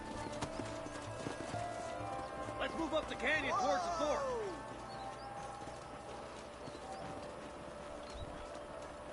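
Horses' hooves clip-clopping at a walk in the Red Dead Redemption video game on PS4 Pro, a steady rhythmic clatter in a canyon, with a horse whinny midway and someone speaking over it.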